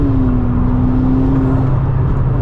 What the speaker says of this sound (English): the turbo sound is quite nice